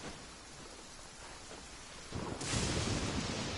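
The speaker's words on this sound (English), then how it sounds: "There's like freaking lightning and everything" Thunder rolls and rain pours in a Genshin Impact battle scene, a low steady downpour that swells sharply louder about two seconds in, with no voices over it.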